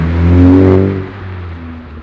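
10th-generation Honda Civic Type R with an AWE Touring Edition exhaust revs up once and settles back to a steady idle, close and loud with a strong low drone.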